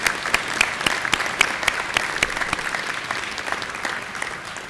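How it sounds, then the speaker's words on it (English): Audience applause at a 2024 college honors convocation, a steady wash of many hands clapping throughout, dense and sustained with a few sharper claps standing out, no talk over it. "Can we give him a round of applause one more time?"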